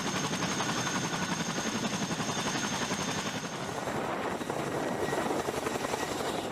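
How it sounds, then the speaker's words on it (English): A CH-47 Chinook tandem-rotor military helicopter roars in a loud, continuous, dense rumble with a fast rotor throb, holding steady throughout with no speech. "CH-47 Chinook helicopters deliver combat engineers using traditional landings, dropping sappers directly onto firm ground."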